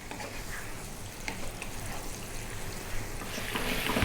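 Lamb fries over medium heat in a pan while being stirred often, a steady dense sizzle with scraping and clattering stir strokes and wet bubbling, close and continuous with no talking.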